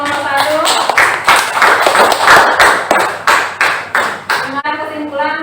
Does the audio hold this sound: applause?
yes